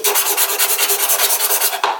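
Wood is hand-sanded with fine sandpaper after belt sanding, a loud close-up rasping scrub in quick, even back-and-forth strokes, about a dozen rhythmic passes with no talk.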